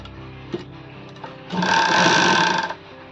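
A sewing machine stitches a readymade sleeveless kurti, running in one steady, loud whirring burst of about a second after quieter handling noises, with no talking.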